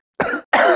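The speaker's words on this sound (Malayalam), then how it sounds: "ചാർക്കോളിൻ്റെ പൊടി മുക്കിൽ പോയിട്ടാണെന്നുണ്ട് ചുമ." Two sharp, close coughs separated by a short pause, brought on by charcoal pencil dust while a charcoal drawing pencil is being sharpened, with no other sound around them.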